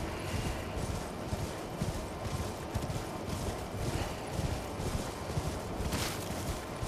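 Horse hooves clip-clop steadily in the video game Elden Ring, a continuous rhythmic trotting at moderate volume with no talk over it.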